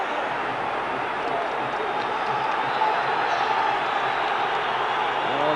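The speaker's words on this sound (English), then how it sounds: "the crowd getting behind Rangers here" Football stadium crowd roaring in support of Rangers during a Champions League match against Olympique de Marseille, a steady distant wash of massed cheering and noise with commentary over it.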